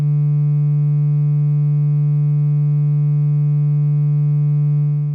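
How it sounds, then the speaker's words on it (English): A sustained, drawn-waveform tone from the oscillator of a Roland S-1 synthesizer shaped to resemble a sine wave, a steady low pitch with faint upper overtones holding evenly for about five seconds before stopping. "I'll walk through the graph key by key and adjust the values till we have something resembling a sine wave"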